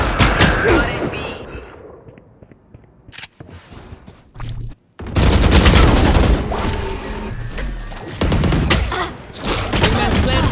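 Gunfire and explosive bursts in the tactical shooter game Valorant, with loud volleys and booms interrupted by quieter gaps and a sharp dropout. A player talks over the action.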